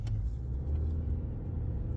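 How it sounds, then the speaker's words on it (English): A truck drives by and turns, its engine giving a steady, loud low rumble throughout with no voices. "It's a truck up here and not making that good turn"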